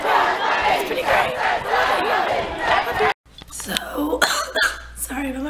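A crowd of people at a gathering cheers and shouts in a loud, continuous roar for about three seconds, then cuts to nearer chatter and scattered voices with coughing.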